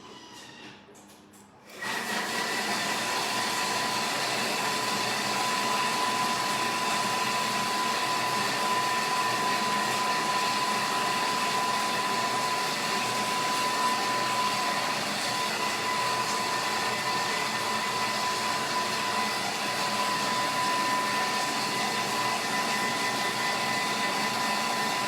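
A Thermomix runs at speed 5, mixing a praliné mixture for a Yule log; after a short quiet start its motor holds a steady, close whir with a faint high whine throughout.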